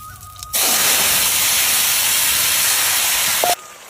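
Dried chili, cumin and nigella seed tempering hits hot oil with a sudden loud, steady hiss that holds for about three seconds, then cuts off abruptly.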